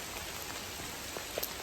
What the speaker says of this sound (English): But it has started raining harder, so I had to pull out the ever lovely poncho.